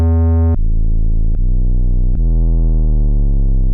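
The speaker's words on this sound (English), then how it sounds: "So we have this kind of noise bass" A loud, sustained synthesized noise bass tone, buzzy and harmonically rich, shifting pitch in three abrupt steps and then sliding slightly lower.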